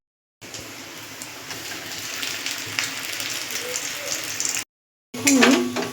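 Potatoes fry on low heat for chicken cutlets, stirred now and then, giving a steady close sizzling hiss that runs for several seconds, breaks off, then returns briefly with a voice over it.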